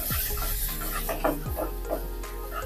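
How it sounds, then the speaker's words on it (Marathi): Ginger-garlic paste being sautéed with golden-browned onions in a pan for chole pulao, a steady close sizzle with stirring and scraping scrapes throughout, no talking. "यामध्येच आलं लसणाची पेस्ट काढून घेऊया आणि कांद्याबरोबर मिनिटभरासाठी परतून घेऊया।"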